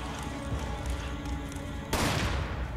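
Gunfire in the video game Resident Evil 5: a sudden loud burst of shots cuts in near the end over a steady backdrop of game ambience.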